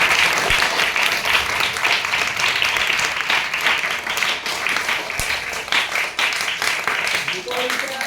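An audience at a Diwali celebration in Shahpur breaks into sustained applause, a dense, even wash of many hands clapping from start to finish, with voices mixed in beneath it.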